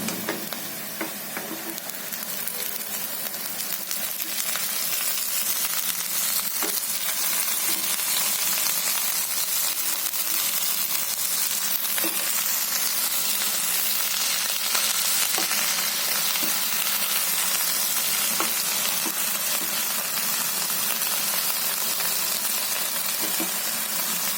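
Safflower greens fry with onion in a hot pan, making a loud, continuous crackling sizzle that holds for the whole stretch, dotted with light stirring scrapes.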